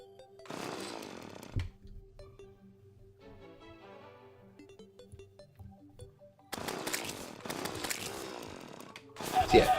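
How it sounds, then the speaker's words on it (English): A chainsaw from the Terraria video game, played in a modded world, revs loudly in two long bursts separated by quieter game music and effects, with a voice talking over it. "And does anybody else ever notice with the chainsaw?"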